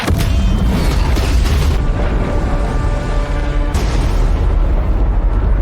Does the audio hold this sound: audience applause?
no